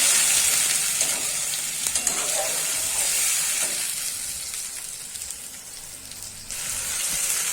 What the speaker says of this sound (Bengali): জিরে, আদা, রসুন, পেঁয়াজ মশলাটা দিয়ে দেবো। মশলাটা কষাবো।